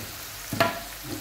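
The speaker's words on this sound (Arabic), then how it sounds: "ها نزيد نخليها تتقلى مليح" Onions frying in a pan with a pinch of cinnamon for Algerian artichoke dolma, a soft steady sizzle with a brief louder hiss and stir midway, close and alone.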